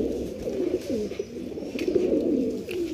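Pigeons at a pigeon sale in Lucknow, a flock of some sixty to seventy birds, coo in steady overlapping low murmurs close by, with no talk over them.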